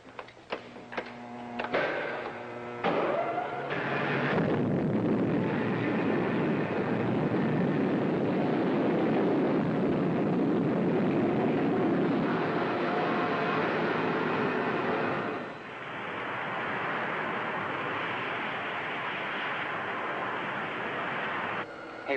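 A rocket ship lifts off in a 1950s space-adventure serial: a long, loud, roaring rush of noise builds after a few opening clanks, holds steady, then shifts to a slightly thinner hiss toward the end.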